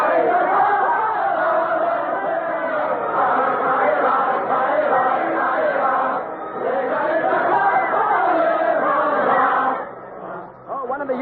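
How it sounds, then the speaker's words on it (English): Paris crowd at the storming of the Bastille singing the revolutionary song Ça Ira, a dense mass of voices in continuous loud chant with cheers, dipping briefly near the end. "They're singing about hanging all aristocrats from lanterns."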